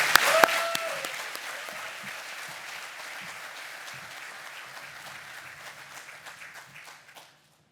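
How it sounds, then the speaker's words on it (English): Audience applause at the official opening of Rocket Lab's Launch Complex 3 in Virginia: an opening burst of clapping that settles into a steady, moderately loud ovation and slowly fades out after about seven seconds. "I want to applaud you for that"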